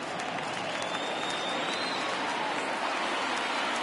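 Baseball stadium crowd noise during a 3-2 count, a steady broad wash of cheering and clapping that holds at an even level throughout, with no voices standing out.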